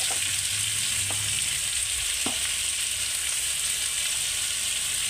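Vegetables fry in a pan with salt, turmeric and cumin powder, giving a steady, loud, even hiss of sizzling oil with a couple of faint clicks of stirring and no voices.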